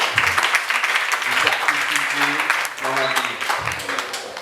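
Audience applause for an actress at a film premiere in northeast Haiti, a steady crackling wash of clapping that runs through the whole stretch while someone speaks over it.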